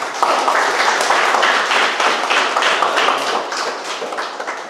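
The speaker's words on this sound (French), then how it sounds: "Vous pouvez les applaudir." An audience at a coding bootcamp demo day in Mauritius claps loudly and continuously, a dense, even patter of many hands that fades slightly toward the end.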